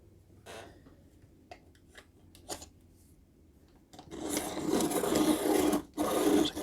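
A Comix pencil is ground in a Deli sharpener. A few faint clicks and handling taps come first, then a loud, close, continuous gritty grinding with one brief break.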